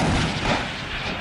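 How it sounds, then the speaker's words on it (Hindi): Azerbaijani artillery firing on Armenian positions, a single heavy boom that rolls and decays over about a second, loud and close, with no voices. "इन वीडियो में अजरबैजान की तोपें दुश्मन पर आग उगलती नजर आईं।"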